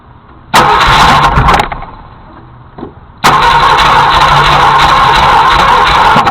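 A seized 390 engine in a Ford Galaxie cranking loudly in two bursts as the starter strains to turn it over, the first about a second long and the second steady to the end, with a short quiet gap between and no talking.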